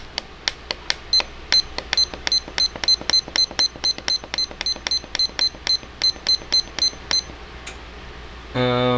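A kitchen timer being set, a rapid series of sharp, high electronic beeps, about two dozen in quick succession, then a brief different tone at the end.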